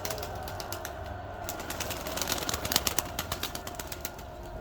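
Pigeons of an old bloodline stir inside a very old coop, soft cooing beneath a quick run of sharp wing flaps and clatters midway, fairly close.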